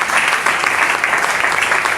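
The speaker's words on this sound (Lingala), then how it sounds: "Est-ce qu'on peut acclamer?" A church congregation at a Sunday service applauds together, a dense, continuous wash of clapping that fills the room at a steady level throughout.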